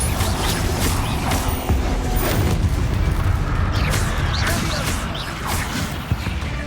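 Confringo fire-spell blasts in Hogwarts Legacy combat, heard as dense, loud, continuous battle noise with repeated booms, crashes and whooshing bursts throughout.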